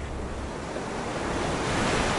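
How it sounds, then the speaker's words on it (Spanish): Sea waves and wind on a rugged Irish coast, a continuous roaring wash of surf with gusting wind noise buffeting the microphone, loud and unbroken, no voices. "Siempre tengo el mar y el sonido del viento a mi alrededor."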